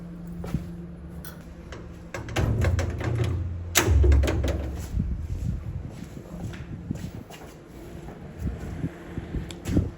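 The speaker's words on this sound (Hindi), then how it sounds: "चलो मैं जब तक दरवाज़ा खोलता हूँ।" A door at a newly built house being opened late at night, with clunks, knocks and rattles building to a heavy thud, then scattered lighter knocks and scrapes.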